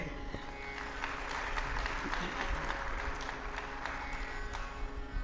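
Thin, scattered applause from an audience at a spoken address in a hall, with light claps running steadily under a low crowd murmur and no single loud burst.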